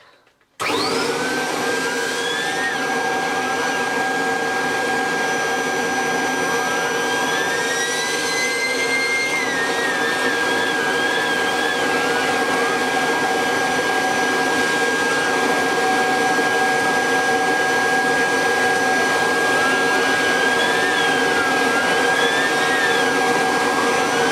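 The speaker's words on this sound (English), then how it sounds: "we're going to start by just vacuuming off the area" A 1980s Kirby Arsenal vacuum cleaner runs steadily over muddy carpet stains, its loud continuous motor whine holding alone for over twenty seconds after switching on, with shifting pitch sweeps as the head moves.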